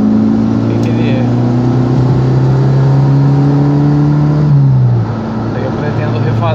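A Ford Escort with a CHT engine revs steadily through an original-diameter exhaust fitted with only a single rear muffler, a loud sustained drone that holds its pitch and then drops off near the end.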